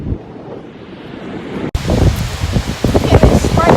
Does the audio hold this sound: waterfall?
yes